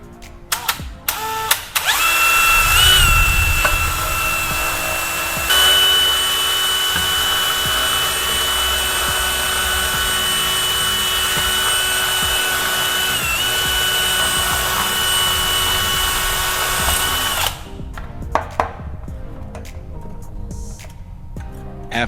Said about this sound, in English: Time to drill another hole